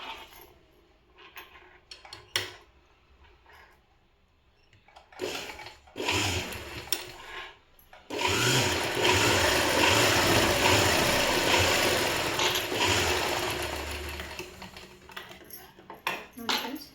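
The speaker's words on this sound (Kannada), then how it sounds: "ನಾನು 1 ಇಂಚಿಗೆ ಇನ್ನೊಂದು ಸ್ಟಿಚ್ ಹಾಕ್ಕೊತಾ ಇದ್ದೀನಿ" Sewing machine stitching a school uniform: short bursts of mechanical whirring and clatter give way to a long, loud, continuous run of rapid stitching close by, with no talking.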